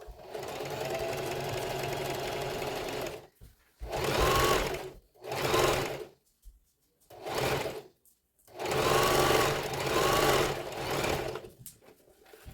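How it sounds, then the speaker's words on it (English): A Singer Heavy Duty sewing machine running after cleaning and oiling, loud close mechanical whirring in one long run followed by several shorter bursts separated by brief pauses. "After cleaning and oiling your sewing machine, it is important you test it to know if it is functioning properly."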